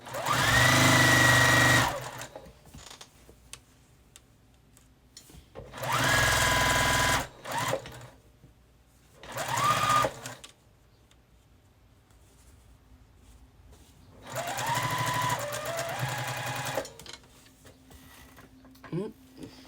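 Sewing machine stitching a quilt, running in three long loud bursts of steady mechanical whirring separated by pauses with softer handling noises and a voice speaking between runs.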